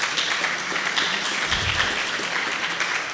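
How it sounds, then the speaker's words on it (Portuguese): A church congregation bursts into applause for Jesus, a dense, even wash of many hands clapping that holds steady for a few seconds with no voice over it. "Uma salva de palmas para Jesus."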